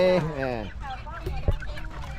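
Chickens clucking at a village market in rural Thailand, a short burst of loud nearby clucks and squawks at the start, followed by softer scattered fowl calls amid market bustle.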